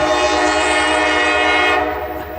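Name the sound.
CSX locomotive horn blowing at intersection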